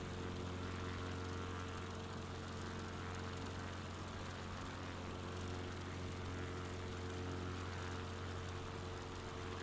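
Steady, droning propeller-plane engine in Microsoft Flight Simulator, a continuous loud hum with no breaks, heard alone throughout without any talking.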